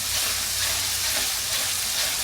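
Whole garam masala spices fry in a hot pan, giving a steady, close hiss and sizzle with faint stirring underneath, continuous and even throughout, with no voices.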